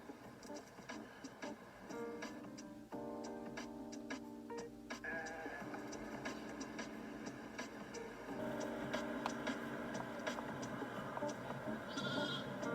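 Sheep on a farm bleat repeatedly in a flock, several overlapping wavering calls at moderate distance, with ticking and clicking noises scattered throughout.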